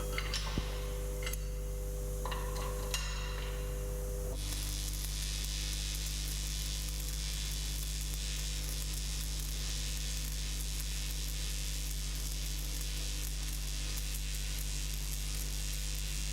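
Shielded metal arc welding with a coated stick electrode on the second side of a tack-welded joint, giving a steady, continuous sizzling crackle over an electrical hum that runs unbroken for the whole stretch, close and fairly loud.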